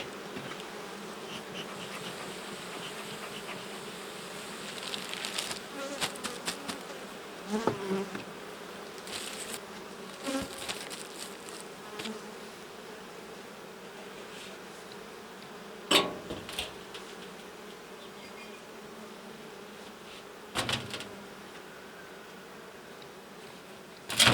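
Honey bees droning steadily around an open Ukrainian-Alpine hive during nest expansion, a soft continuous buzz with scattered close wingbeat swells and a few light clicks of frames, no voices.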